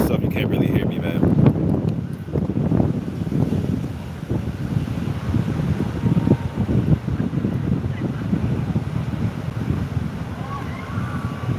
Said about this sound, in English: This wind is crazy out here right now.